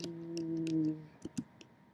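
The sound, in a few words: typing on a broken computer keyboard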